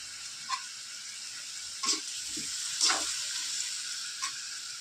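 Food sautéing in a pan gives a steady, moderate sizzle, with a few soft clicks and scrapes from stirring spread across it and no voices.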